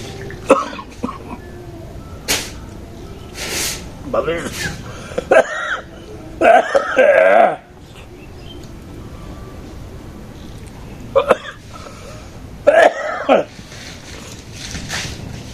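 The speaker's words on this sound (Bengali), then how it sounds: "গলায় লাগে নাকি এত কাশি" Several short, harsh coughs come in bursts at uneven intervals, close by, with some throat clearing and background noise between them.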